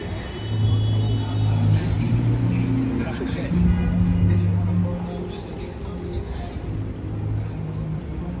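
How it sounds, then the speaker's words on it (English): A car passes on a busy New York City street, a steady engine rumble swelling and fading over several seconds against city background noise. "I'm just waiting for that car to go."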